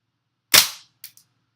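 A WE Apache MP5 gas blowback airsoft gun fires one sharp, loud crack that decays quickly, followed by two faint short clicks, in an otherwise silent room.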